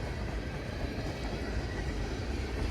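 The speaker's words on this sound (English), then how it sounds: "I believe this is our 13th train of the day" Train rolling along a snowy railroad in New York State, a steady dense rumble and rushing roar close by, continuous without talk.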